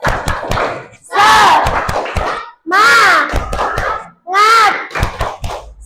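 A classroom of students performs a spirit clap chant, rhythmic hand claps punctuating loud unison shouted chanting in three bursts, close and energetic.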